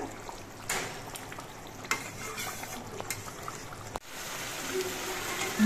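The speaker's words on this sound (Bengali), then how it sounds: "এবার এর মধ্যে আমি মাছগুলো দিয়ে দিচ্ছি মাছ দেওয়ার পর ঝোলটা আরো কিছুক্ষণ ফুটিয়ে নিতে হবে" Pomfret fish pieces slipped into a pot of simmering curry gravy, giving a steady bubbling, sputtering hiss with a few soft splashes and a sharp clatter near the end, close by and moderately quiet.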